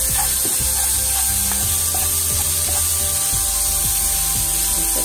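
Bell pepper goes into a pan after fish has been fried, giving a steady, close sizzle with scattered crackles and scraping of stirring throughout.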